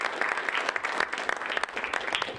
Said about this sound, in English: We have a round of applause for each of them.